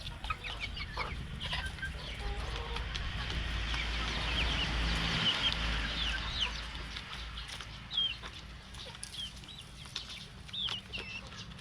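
A flock of four-month-old Darag native chicken hens, kept as breeders, cluck and murmur steadily at moderate distance, with occasional sharper clucks standing out over a constant outdoor background.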